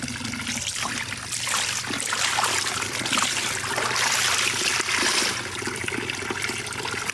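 Water flowing steadily in a village setting, a continuous rushing trickle heard up close and alone, without speech.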